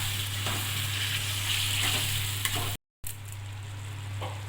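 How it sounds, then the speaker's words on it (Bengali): Ground ginger added to frying spices in a pan, giving a steady, soft sizzle with a low hum beneath, briefly cut to silence before the quieter frying resumes. "এবার বেটে রাখা আদা দিয়ে দিচ্ছি"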